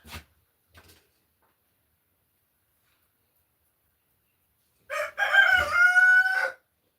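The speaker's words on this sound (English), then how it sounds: "And yes, there's a rooster in here." A rooster crows once, close and loud, inside a knife-making workshop, after a few faint knocks and a long quiet stretch.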